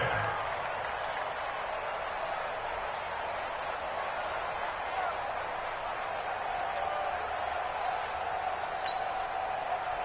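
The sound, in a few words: stadium crowd cheering in an American football video game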